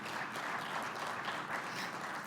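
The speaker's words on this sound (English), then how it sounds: "Big round of applause, ladies and gentlemen." Audience applause at an Asian economic dialogue conference as a journalist is called to the stage, a dense, even wash of clapping from a large crowd, held steady and moderately distant throughout.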